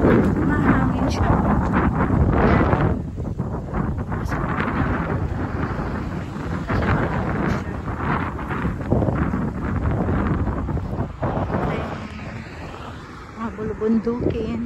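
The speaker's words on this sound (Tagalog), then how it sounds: "Mahangin siya." Gusty wind buffets a microphone outdoors on a walk through a hilly neighbourhood, a constant low rumble with a voice talking over it.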